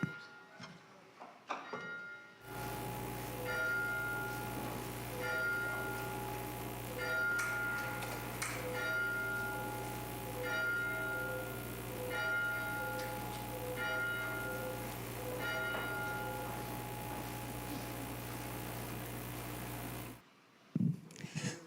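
A bell rings out in steady repeated strokes to open a Sunday church service, each clear strike ringing over a low continuous hum for most of the stretch.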